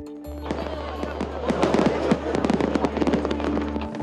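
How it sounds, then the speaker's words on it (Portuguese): Rapid bursts of fireworks crackling and popping, loud and dense, building over a steady low hum. "Fogos de artifício."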